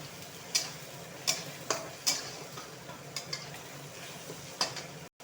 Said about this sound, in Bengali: এখন দিব রসুন রসুনটা হালকা ভেজে নিই